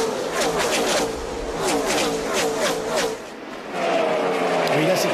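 NASCAR stock cars roar around Charlotte during the 2009 Coca-Cola 600, a steady engine drone running under a commentator's continuous talk.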